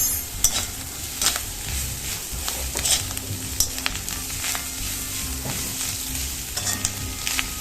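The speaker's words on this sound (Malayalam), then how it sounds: "ഇനി ഫ്ലെയിം ഒന്ന് കൂട്ടിയതിന് ശേഷം നമുക്ക് നന്നായിട്ടൊന്ന് മിക്സ് ചെയ്ത് കൊടുക്കാം." Clam meat stir-fried in a hot pan over a raised flame with curry leaves sizzles steadily. Frequent metallic scrapes and clicks of a spatula stirring sound close, with no speech.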